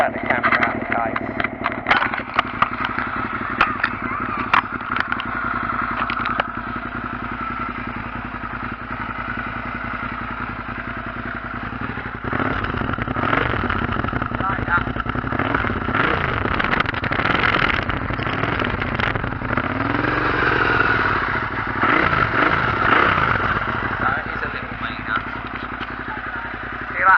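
A motorcycle fitted with a Delkevic exhaust, baffle removed, idles and blips with a rough, clattering engine note, steady and close, while a voice talks over much of it.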